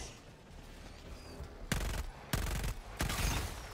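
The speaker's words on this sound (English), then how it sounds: "using this rifle on these big bugs works great" Bursts of rifle gunfire against giant bugs in the video game Helldivers 2: three loud, sustained volleys, each about half a second long, separated by short pauses, with no talk.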